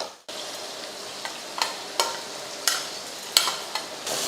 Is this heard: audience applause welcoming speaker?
no